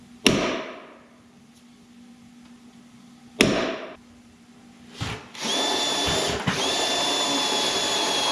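Drilling halfway into the steel rocker panel of a 1999-2007 GM truck: a few sharp knocks, then a steady, close, high-pitched drill whine that runs without a break to the end.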